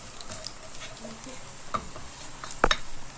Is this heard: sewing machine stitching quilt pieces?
no